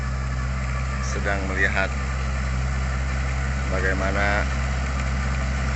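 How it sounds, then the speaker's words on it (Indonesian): Four-wheel tractor engine running steadily nearby while rotary-tilling a corn field, a constant low idling drone under a voice talking. "traktor roda 4 bekerja"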